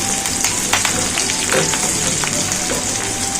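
Onions sauté in a pan for brain masala fry (bheja fry). A steady, close sizzle carries scattered crackles and pops, and no one speaks.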